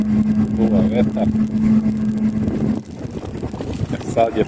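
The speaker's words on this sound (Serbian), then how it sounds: "duva vetar" Wind gusting past a driver on an overcast day while riding a 504 through the Straževica tunnel area toward Resnik, a steady rushing roar with a strong engine hum beneath, and someone talking over it.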